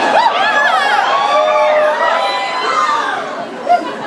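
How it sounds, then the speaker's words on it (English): At a concert in Houston, an audience hoots, hollers and whoops in overlapping rising and falling cries, loud and continuous, with one sharper yell near the end. "what you do in Texas, you hoot and holler"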